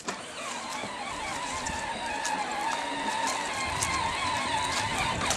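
A child's new ride-on toy car runs with a steady electric motor whine and mechanical hum, fairly close and continuous throughout, with no talking over it.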